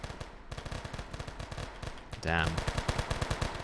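Rapid shotgun and gunfire bursts in a war-zone coffee delivery video game, a steady stream of punchy shots with a louder blast partway through, heard under a man's brief spoken remark.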